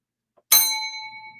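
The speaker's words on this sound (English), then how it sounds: "make sure you hit that bell" A single notification bell ding rings out after a brief silence, a sharp metallic strike whose bright ringing tone lingers and slowly fades, heard alone and close.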